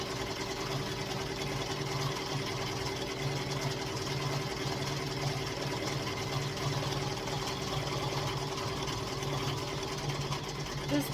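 A Redline embroidery machine stitches a cute design, running as a steady, quiet mechanical hum with rapid needle chatter throughout.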